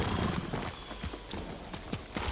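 Horse hooves clip-clopping in the samurai action game Ghost of Tsushima, a steady run of light thuds under a continuous ambient game wash, fairly close and moderately loud.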